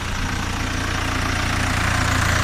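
A used tractor engine idles steadily at close range, a loud continuous low rumble with a faint knocking pulse and no pauses.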